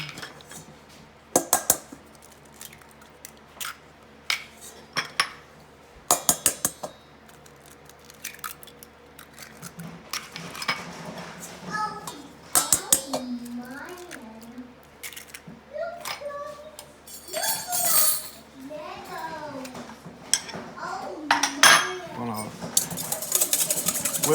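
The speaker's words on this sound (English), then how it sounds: "Whisk those a little bit, not a whole lot, just enough to get them broke up, mixed." Eggs are cracked and whisked in a bowl for a mild au gratin potato sauce, making scattered clinks of a utensil against the dish, close up, with a person talking over parts of it.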